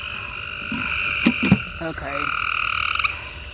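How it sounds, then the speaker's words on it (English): Frogs croak loudly near a green, neglected swimming pool, a dense, continuous chorus of rasping calls with a few sharper bursts, close and steady throughout, while someone speaks briefly over it. "Like, that's somebody granddaddy frog."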